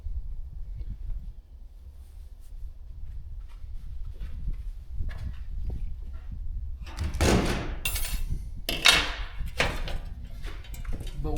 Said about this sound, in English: Breaking out all the studs.